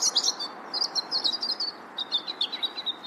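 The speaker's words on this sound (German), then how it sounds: "Düt, das ist vom Kleiber." Eurasian nuthatch gives repeated high, clear piping calls in quick rhythmic series, outdoors in a rural farmyard setting in Swabia or Old Bavaria, fairly close and loud with no talking.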